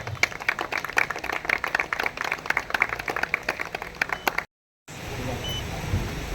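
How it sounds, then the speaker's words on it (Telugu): Guests at a crypto coin birthday event keep up a brisk round of clapping for several seconds, then it cuts to silence before a duller background hum. "చప్పట్లు కొట్టాలి సార్"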